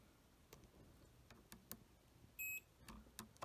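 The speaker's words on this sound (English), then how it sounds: "hold these probes together and touch the two wires until you hear them beep" A multimeter continuity tester gives a short electronic beep once as its probes touch two wires of a three-way switch, amid faint scattered ticks and clicks, quiet and close.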